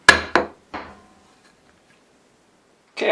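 A spur drive tapped into a pine and oak wood blank on a lathe, three sharp close hammer knocks in quick succession, then silence before a fourth hit at the end.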